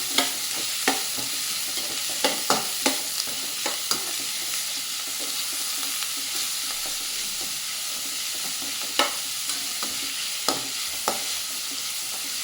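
Chopped onions sizzle and roast in a pan for a green chickpea-leaf bhaji, a soft steady frying hiss broken by scattered clicks and scrapes of stirring.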